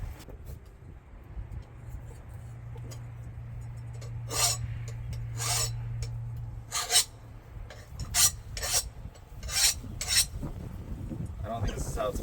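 Raspy strokes of a large file against a steel Bowie knife blade at a blacksmith's forge, a series of loud, rhythmic scraping bursts over a low steady hum.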